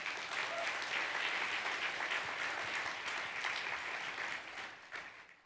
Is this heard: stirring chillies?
no